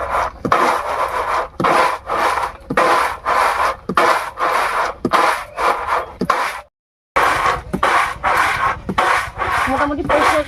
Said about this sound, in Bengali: আজকে ঘরের মধ্যেই গুঁড়ো করছি